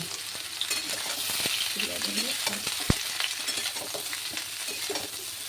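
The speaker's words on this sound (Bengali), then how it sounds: "কড়া বসিয়ে 2 চামচ তেল দিয়ে ফুলকপিগুলোকে সুন্দর করে ভাজতে বসিয়ে দিলাম।" Steady oily sizzle of cauliflower frying in two spoons of oil in a kadai, with soft stirring scrapes and one sharp clink partway through.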